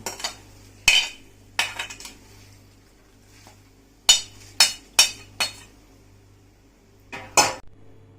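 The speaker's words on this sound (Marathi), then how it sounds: "ही फोडणी याच्यात टाकून मिक्स करून घेऊ" Puffed rice chivda being tossed with tempering in a metal pan for a Diwali snack, heard as sharp clinks and scrapes of spoon against pan in irregular bursts, close and alone, with quiet gaps between strokes.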